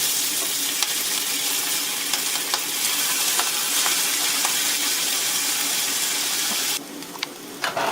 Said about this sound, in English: Cook the noodles to the amount of crispiness that you like. Add more cooking oil as required.